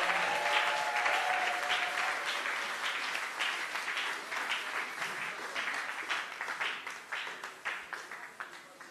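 A church congregation claps and cheers loudly for an arriving pastor candidate, dense sustained applause that settles into steadier rhythmic clapping, with faint voices mixed in.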